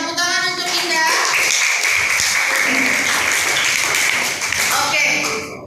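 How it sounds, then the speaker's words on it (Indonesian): Students clapping in a classroom for a classmate, a sustained burst of hand claps from the group with children's voices mixed in before it fades. "Iya, beri tepuk tangan untuk Indah."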